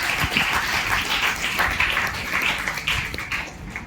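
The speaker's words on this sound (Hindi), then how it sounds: "एक बार सारे बच्चे खुद के लिए तालियां बजाएंगे पहले" A group of children clapping for themselves at a World Environment Day science-centre event, steady continuous applause of many hands close by, with no talk over it.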